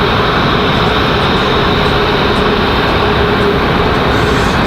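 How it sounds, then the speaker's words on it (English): Several airliner jet engines spool up at Raleigh-Durham International Airport, making a loud, constant broadband roar with a faint high whine that holds steady without pauses or voices. "So you guys can hear, got several planes starting up,"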